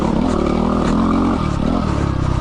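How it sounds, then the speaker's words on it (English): A Yamaha WR250R dual sport motorcycle engine lugs at low revs, a loud, close, throbbing chug with a pulsing low rhythm that dips briefly before picking back up. "Oh, lugging it."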